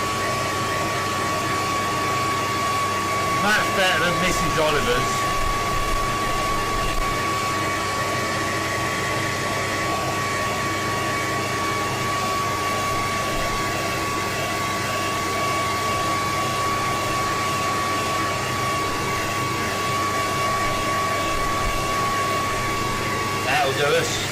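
A hairdryer blows steadily on drying gesso paint, a constant airy whoosh with a thin tonal whine close by for the whole stretch, while a person talks over it.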